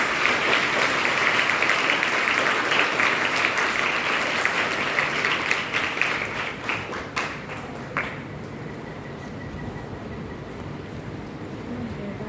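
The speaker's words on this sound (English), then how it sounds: "Let's give our sisters a huge round of applause." An audience gives a big round of applause for the sisters, loud, dense clapping that carries on for several seconds, then thins into a few scattered claps and fades, leaving quiet room noise.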